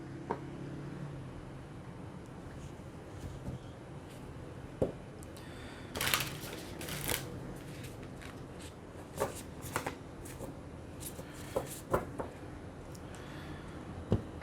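Tarot cards being shuffled and drawn for a reading, soft papery riffling and sliding close up, broken by sharp snaps and quick flicks of cards being split and drawn, quiet and intimate with no speech.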